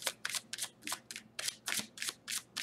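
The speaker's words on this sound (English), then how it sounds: "I'm going to shuffle it anyway." Tarot cards being shuffled in a quick series of crisp riffling bursts, about ten close, papery flutters in a steady rhythm.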